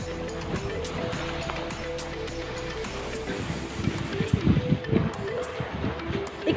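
Surf breaking at high tide near an island resort, with rushy waves and wind that swell louder toward the end, alongside low engine-like hum and faint voices.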